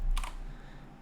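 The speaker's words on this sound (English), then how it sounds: "Geez, I cannot type, sorry." Short burst of computer keyboard typing during Python coding, a quick cluster of key clicks near the start that fades into quiet room tone.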